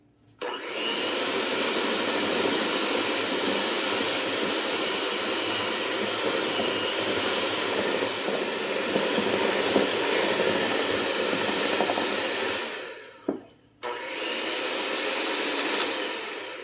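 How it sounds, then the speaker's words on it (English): An electric hand beater with no low speed whips cream cheese in a bowl, a loud, steady close whir that cuts out briefly near the end and then starts up again. "this beater does not have a low to low speed, so it's probably going to make a mess"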